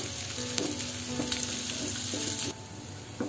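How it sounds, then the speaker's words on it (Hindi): Onions and dried red chillies sizzle and crackle steadily in oil in a pan, with small pops and faint scraping of stirring, fairly quiet and close. "प्याज बिल्कुल अच्छी भून चुकी है"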